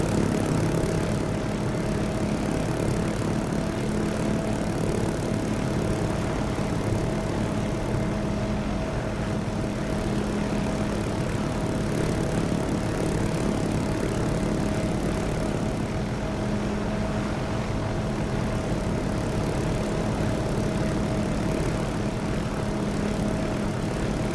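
MD500 helicopter engine and rotor in a flight simulator hums as a steady, loud, unbroken drone with a constant tonal whine, heard alone with no talking.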